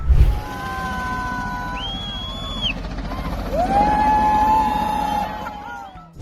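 Helicopter releasing infrared decoy flares: steady rotor and engine roar throughout, with several high whistling, sliding tones as the flares fire and streak away, loudest in the second half.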